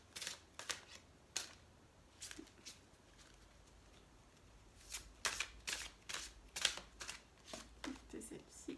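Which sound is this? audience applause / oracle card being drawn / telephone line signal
oracle card being drawn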